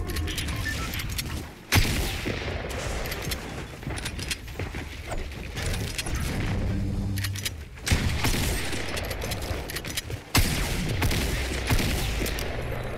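Dense, rapid gunfire and building-break clatter from Fortnite Battle Royale Season 7 gameplay, loud and nearly continuous with sharper bursts standing out, no voices over it.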